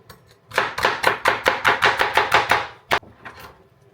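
Celery being chopped with a knife for a fresh parrot chop, about a dozen crisp, evenly spaced cuts in a quick run, then a pause, one final chop and a faint trailing tap.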